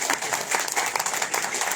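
Dense, steady applause fills the air from an audience at a poetry recital during the Kans fair in Mathura, a loud continuous patter of many hands.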